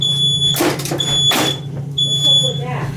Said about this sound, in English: so that's a smoke alarm